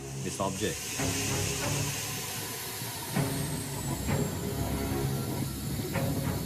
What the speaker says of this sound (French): De la vapeur se dégage de l'objet.